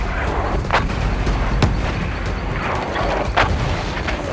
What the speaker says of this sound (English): The explosions were a wall of sound, sending debris everywhere.